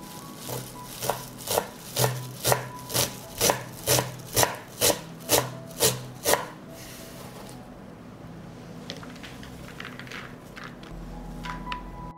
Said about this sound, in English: And finally, I will cut the parsley.